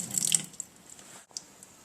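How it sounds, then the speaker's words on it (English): A very narrow stream of water runs from a tap into a sink, with a soft, close splashing trickle that thins and briefly stops before resuming quietly. "now you want a very narrow stream of water"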